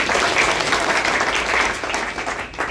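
An audience at a music school's thank-you event bursts into sustained applause, a dense, loud wash of clapping hands that holds steady from start to finish.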